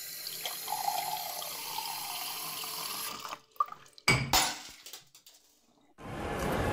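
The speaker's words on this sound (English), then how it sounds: "Why is the water coming out of your sink brown?" Brown water runs from a sink faucet in a steady, close gush for about three seconds, then cuts off, followed by a few clunks and a short burst of noise.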